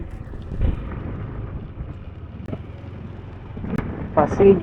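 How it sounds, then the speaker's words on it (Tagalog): Steady, dense hiss of heavy rain pouring down in Aroroy, Masbate, with gusty wind buffeting the microphone and a few brief louder surges. "lumalakas naman yung ulan"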